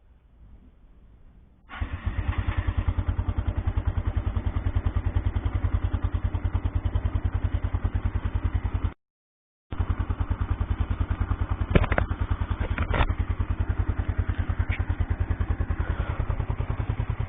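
A 1987 Yamaha SR 125 SE motorcycle engine cranks and catches, then runs at a fast, steady idle, briefly cutting out before firing again with a few sharp clunks.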